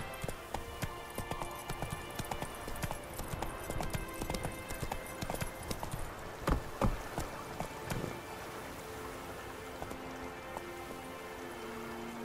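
Roach, the horse in The Witcher 3: Wild Hunt, gallops with rapid, rhythmic hoof clip-clops, quiet and steady over a soft ambient bed, with a few sharper thuds midway.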